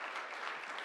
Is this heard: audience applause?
yes